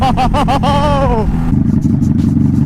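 Motorcycle at night pulling away with quick upshifts, engine pitch rising and dropping several times, then settling into a lower chugging rumble.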